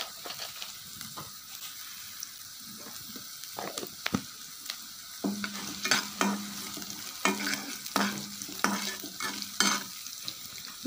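Cumin seeds frying in a pan for radish chutney, with soft sizzling and crackle interrupted by repeated stirring scrapes and clinks that grow busier toward the end.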